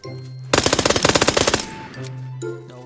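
Rapid automatic gunfire from a weapon in a video game, one loud sustained burst of about a second with evenly spaced shots, then quiet game ambience with a low hum.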